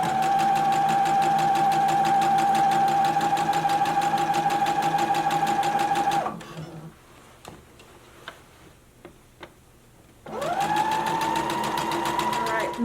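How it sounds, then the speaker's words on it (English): A sewing machine stitching fabric along a skirt casing drones steadily with rapid rhythmic needle ticks, pauses for a few seconds of light handling clicks and backstitching, then resumes its steady run, close up. "begin sewing, back stitch, and you're going to continue sewing until you get to the end"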